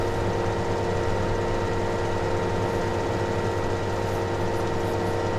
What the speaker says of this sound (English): Wait for the tractor.